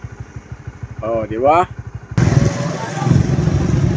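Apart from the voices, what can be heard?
motorcycle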